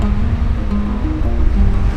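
Small ocean waves breaking and washing in steadily, a continuous rushing surf with low rumble and some wind, heard from a sailboat out on the water during a solo passage.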